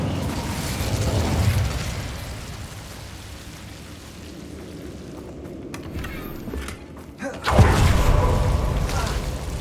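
An Incendio fire spell cast in Hogwarts Legacy, heard as a sharp whooshing burst and crackle near the end of a stretch of rumbling game combat effects.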